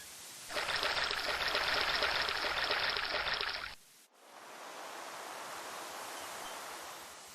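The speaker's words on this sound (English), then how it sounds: "You scoop up a cupful of ocean water." A cupful of ocean water is scooped in the King's Quest III remake game, a loud rushing pour lasting about three seconds, then a short gap and a softer, steady wash of water.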